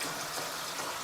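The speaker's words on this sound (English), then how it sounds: "I'm going to put it in my sink in cold water" Cold water runs from a tap into a kitchen sink, a steady hissing gush at low level with no voices over it.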